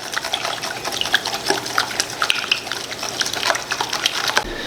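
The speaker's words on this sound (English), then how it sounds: "I'm gonna mix this up first." Protein powder, sugar and water are stirred together for waffle batter, giving a steady wet sloshing and scraping close by with small irregular clinks, and no voices.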